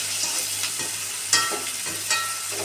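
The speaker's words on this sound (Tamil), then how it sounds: "அதனால தான் பாகக்காய் 3/4 பதம் வெந்ததுக்கப்புறம் கருவேப்பிலையை போட்டு வறுக்கிறோம்" Bitter gourd and curry leaves fry in hot oil with a steady, close sizzle, while a utensil stirs and scrapes the pan a few times.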